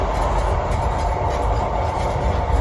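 A train runs at speed, heard from inside the vestibule of a Midland Pullman carriage, a loud, steady rumbling roar with rattling and faint rhythmic rail clatter throughout.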